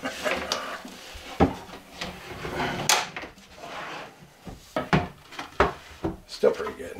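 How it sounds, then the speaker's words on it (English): A cabinet drawer is fitted into a painted cupboard and shut: wooden slides, scrapes and knocks lead to several sharp thumps and clicks close by, with a voice briefly in the background. "First drawer in our first cupboard."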